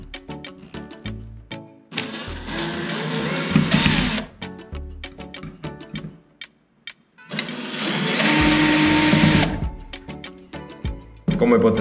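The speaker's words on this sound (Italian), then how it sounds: "Cambiamo l'inserto a trapano perché le due viti qui sono veramente piccole." Two bursts of a small electric screwdriver whirring for a couple of seconds each, removing small long screws from a mechanical hard disk, close up, separated by light clicks and handling noises.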